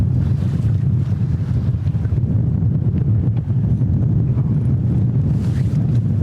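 Strong wind buffets the microphone on a lake during rough pre-frontal conditions while musky fishing from a boat, a loud, continuous low roar with gusting texture and no speech.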